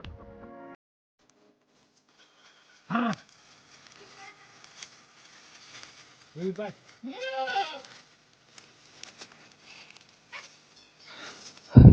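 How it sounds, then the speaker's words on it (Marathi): Goats bleat in several short, wavering calls spread across a quiet stretch, fairly close, with brief rustling and handling noises between them. "आमची बकरीची मस्ती चालू होती"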